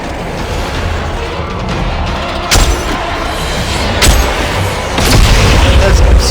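Sniper rifle shots in the video game Dead Space 3 on impossible difficulty: three sharp booming reports spaced over a few seconds, each cutting through a steady bed of in-game rumble and ambience.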